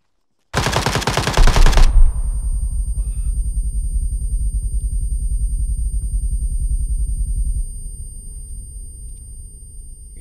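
A loud, close burst of rapid machine-gun fire in Arma 3 lasts about a second and a half, then a long rumbling echo fades slowly. No one talks.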